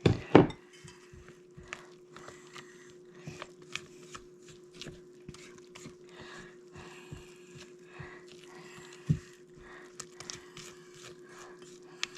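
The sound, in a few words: stirring flour into bread dough in bowl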